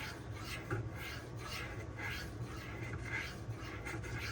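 Steady rhythmic rasping strokes of a Cold Steel Swift knife blade drawn over a 6K DMD diamond sharpening stone, repeated evenly at close range with no talk.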